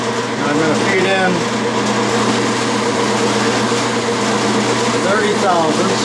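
A lathe turns a bell center punch blank as the tool feeds in to cut grooves, a loud constant machine whine and hum with faint squealing streaks from the cut.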